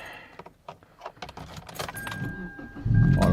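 A car is started on a cold day, with keys jangling and clicks of handling first, then the engine catching and rising to a loud, steady idle close by at the end.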